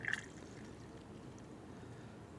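Water pours steadily into the cooling system of a rare Mercedes S500 Coupe, a continuous hissing, splashing stream that runs without pause, with a brief brighter clatter at the start.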